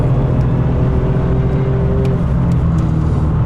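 Alfa Romeo Giulia Quadrifoglio accelerating hard around the Donington Park circuit, a loud, steady engine roar with a rising tone as the throttle is squeezed, heard close and continuous with no talking.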